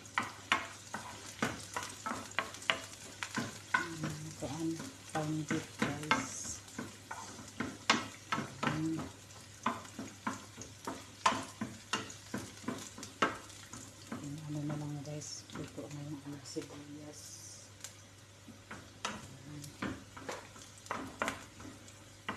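Onions fry in a pan and are stirred, giving a quiet, low sizzle broken by frequent scraping and clinking strokes of a utensil in a fairly regular rhythm.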